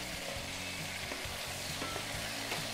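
Vegetable sofrito of tomato, onion and other vegetables fries steadily in a pan, a dense continuous sizzle with soft stirring scrapes and small pops throughout, close and even in level.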